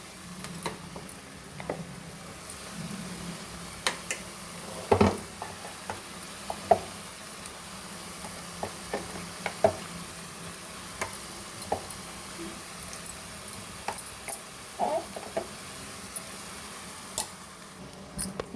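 Spinach with onion chili paste sizzles softly in a pan while a utensil stirs it, scattered scrapes and taps ticking over a low, steady fry.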